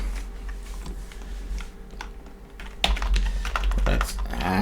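Keys clatter on a computer keyboard as Java code is typed for a rocket program, a steady run of keystrokes that grows denser and louder toward the end, with faint background voice.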